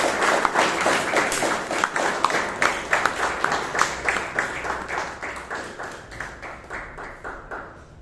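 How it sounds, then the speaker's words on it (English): An audience at a Bangalore Toastmasters meeting welcoming a speaker with a round of applause, a dense, steady clapping that runs the whole way and tapers slightly toward the end, with no talking. "let's welcome our next speaker with a big round of applause"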